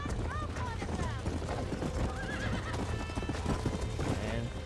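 Horses in the Red Dead Redemption video game clip-clop steadily with hooves while whinnying and neighing repeatedly, loud and close, over a dense busy game soundscape with faint voices.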